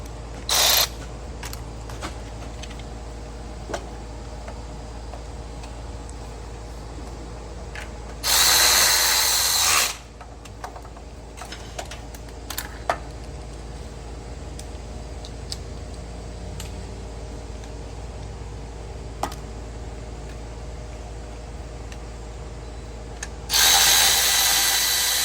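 Heat shield bolts of 10 and 13 mm are tightened on a 2013 Dodge Avenger engine, with three short, loud bursts of power-ratchet whirring separated by quieter stretches of faint tool clicks and handling noise.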